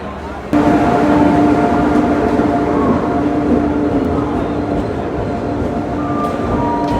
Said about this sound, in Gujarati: આ છે વંદે ભારત એક્સપ્રેસ